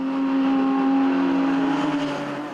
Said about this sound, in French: Cette Renault Mégane Trophy repose sur un châssis tubulaire. Le moteur 3 litres 5 Nissan est placé à l'arrière.